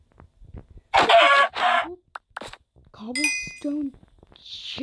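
Chicken clucking in the video game Cobble Clicker, a loud burst of squawking clucks followed by softer clucks and game chimes, with someone speaking in between.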